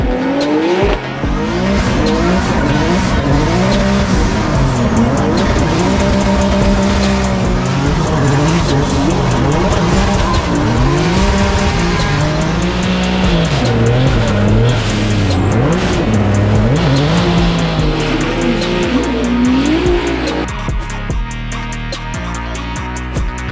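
Drift cars at a Formula Drift round in St. Louis, with loud continuous engine revving and wavering tire squeal as the cars slide, and voices underneath.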